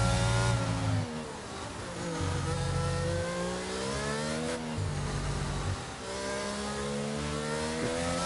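High-revving F1 race car engine in a racing video game at the Brazilian Grand Prix, loud and continuous, pitch climbing and dropping through gear changes as the car powers out of a corner, with no talk.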